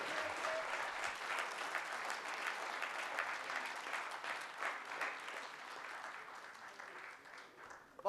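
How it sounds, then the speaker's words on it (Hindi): At a memorial lecture series event, an audience claps together in sustained, even applause that carries on for several seconds before tapering off at the end. "ताली फिर रह गई थी, दोबारा बजानी पड़ेगी आप लोगों को।"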